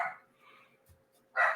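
Two short, bright dog barks, one at the start and another near the end, separated by a quiet gap with faint background noise.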